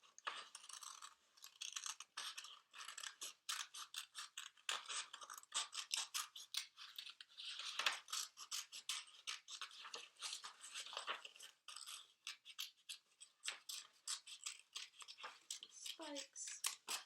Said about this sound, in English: you can take your green paper, and we can cut out some grass